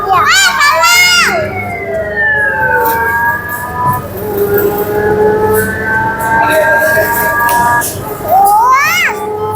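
A toy police motorcycle kiddie ride in a supermarket sounds its loud siren, with rising and falling wails sweeping up and down, while children's voices chatter nearby.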